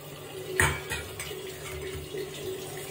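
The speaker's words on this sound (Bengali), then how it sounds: "আর এই যে এখানে আমার রান্নার জলটা ভরা হচ্ছে" Tap water runs into a cooking pot in a home kitchen, a steady close rush with a clank of the pot near the start and faint ongoing splashing.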